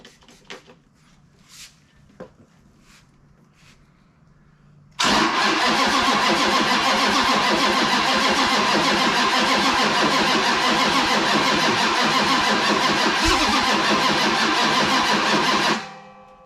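A Chrysler 440 Six Pack V8 engine cranks and sputters briefly with a few clicks, then catches and roars loudly and steadily for about ten seconds before cutting off abruptly, no talking heard.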